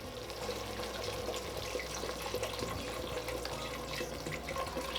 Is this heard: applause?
no